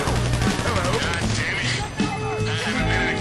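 Gunfire in the Grand Theft Auto V Doomsday Heist mission rescuing Lester, sharp bursts and shots crackling over busy game sound and music, with a player talking throughout.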